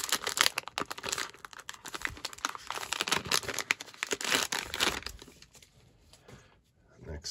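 A Topps Heritage baseball card pack wrapper is torn and crinkled open up close, with steady crackling plastic for several seconds that fades toward the end while someone talks over it.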